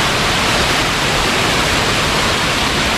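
Dense, continuous roar of falling water at Godhgol waterfall near Kanker and Sarona, by an uncleaned pool, steady and close throughout with no voices.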